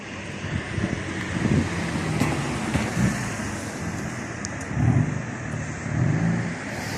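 A car accelerates on the road during carspotting in Knokke, a rising engine roar mixed with traffic hiss and wind buffeting the microphone. It passes at moderate distance with no voices.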